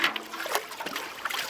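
Fresh village fruit juice poured from a bottle, a steady splashing trickle of liquid running continuously and fairly close throughout.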